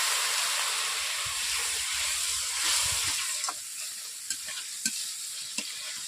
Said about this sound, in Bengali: এইভাবে আমি মশলাটাকে 5 মিনিট কষিয়ে নিচ্ছি